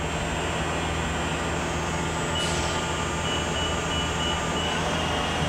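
A Southwestern Industries TRAK FHM5 CNC mill's spindle runs at 1200 RPM, a steady, broad mechanical hum and whir that holds evenly throughout, loud and close with no talk.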